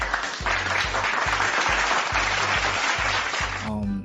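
A canned applause sound effect played from a Maono Maonocaster Lite AU-AM200 portable podcast mixer, steady crowd clapping over a rhythmic low thumping pulse, ending abruptly as a voice begins to speak.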